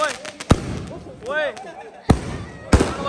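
Firecrackers go off in Changal village, Punjab, to celebrate an AAP election win: three sharp, loud bangs at irregular intervals, with people talking nearby between them.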